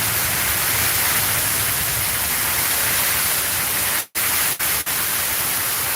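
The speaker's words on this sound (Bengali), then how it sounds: "এই যে বৃষ্টি দিচ্ছে," Heavy night rain pours during a storm in Sylhet after a hot spell, a loud, unbroken wash of hiss with a few sudden brief dropouts near the end.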